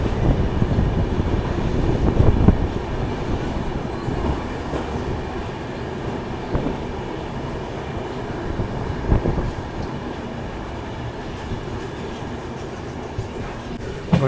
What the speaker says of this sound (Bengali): আমাদের ট্রেন শিলিগুড়ি জংশন থেকে বেরিয়ে গেল